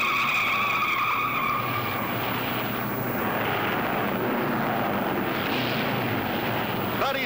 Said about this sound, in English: Troy Rubman spins.